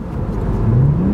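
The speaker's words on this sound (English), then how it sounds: "you hear my straight pipe, Doc?" Lexus IS300 with a straight-pipe exhaust revving, a steady loud low engine drone with pitch climbing toward the end, close by with no talking.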